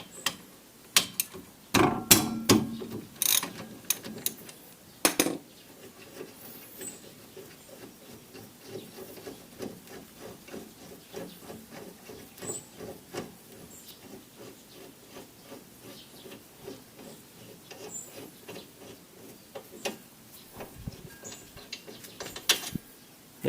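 A ratchet with a 17 mm socket unscrews the brake caliper bracket bolts on a Nissan Micra K14, with rapid clicking runs and a few louder clanks as the bolts come free, close by.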